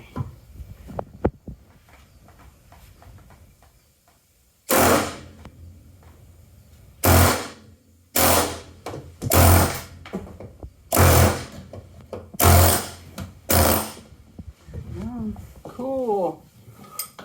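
Chisel and hammer knocking rivets out of interior wall panels in a bus: seven loud, sharp metallic bursts of clanging, spaced about a second apart, with faint talk between them and after.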